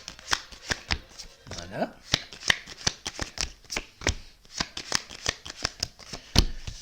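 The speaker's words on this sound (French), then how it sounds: "Donc, je retire 3 cartes." Tarot cards being shuffled in a steady run of quick riffling snaps and soft slaps during a financial and career reading, close and fairly loud, with a voice speaking briefly.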